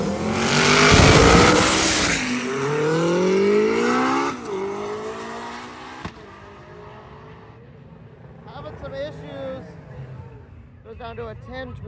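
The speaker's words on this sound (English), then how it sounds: "Beautiful car, sounds really cool with that flat pedal crank, turbo" A turbocharged Mustang drag car runs at a drag racing event, its loud revving engine rising and falling in pitch up close before fading off, with people talking over it.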